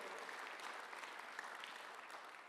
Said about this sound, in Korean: 박수로 한번 들으시기 바랍니다